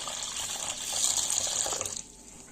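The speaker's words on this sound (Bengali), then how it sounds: "এখন পানি দিয়ে ভালো করে ধুয়ে নিব।" Water running over previously fried mung dal as it is washed in a bowl, a steady gushing rinse that swells in the middle and then cuts off near the end.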